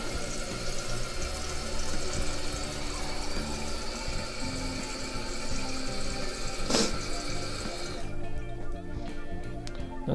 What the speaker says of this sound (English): And the toilet tank is filling up.